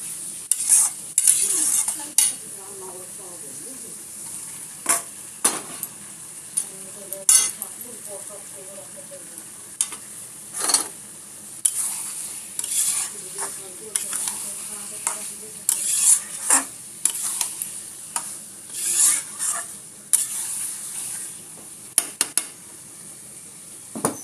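Eggs added to a thick curry in a pan, stirred with a spoon that scrapes and clinks against the metal in irregular bursts over a low sizzle, close by, with faint voices at times.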